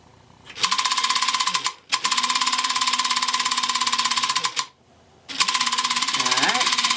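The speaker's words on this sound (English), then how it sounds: "I'm going to put some power to this motor and see what happens." An electric motor whirs to life inside Space Galaxy repair, a video game, buzzing loudly in two long runs split by a short pause, then starting up again with a rising tone near the end.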